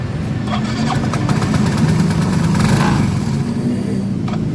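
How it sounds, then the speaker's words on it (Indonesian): A Yamaha Mio M3 scooter engine runs roughly at idle, sputtering and uneven, with a steady low rumble that wavers and stalls. "Tidak bisa langsam motornya. Mati lagi."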